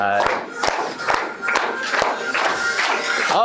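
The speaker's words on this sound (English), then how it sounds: "Keep clapping." An audience at a club speech event claps in a loud, steady, rhythmic beat, roughly two claps per second, with crowd voices mixed in throughout.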